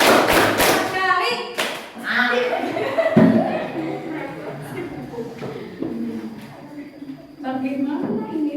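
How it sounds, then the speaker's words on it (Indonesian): A school class claps hands in counted rounds, a few sharp group claps separated by a teacher's talking and some light laughter. "1 kali tepuk, 2 kali tepuk, 3 kali tepuk, 4 kali"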